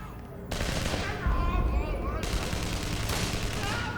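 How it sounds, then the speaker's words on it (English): Video game gunfire crackles in rapid volleys at Spider-Man over a game soundtrack, dense and continuous through most of the moment. "Could you please ask them to stop shooting at me?"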